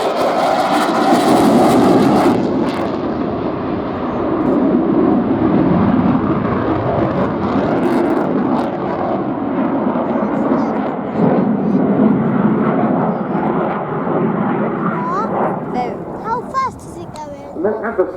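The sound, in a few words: Saab Gripen fighter jet flying at air show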